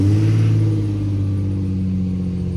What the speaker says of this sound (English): Cold start, y'all.